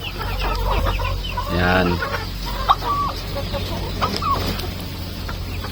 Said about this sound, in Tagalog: Yan, yung mga sisiw dati natin na native.